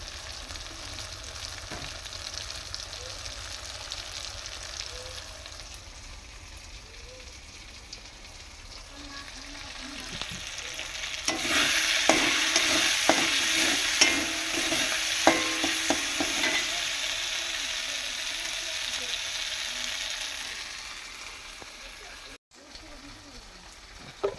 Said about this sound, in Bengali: আর আমি এখানে মশলাটা ভেজে নিচ্ছি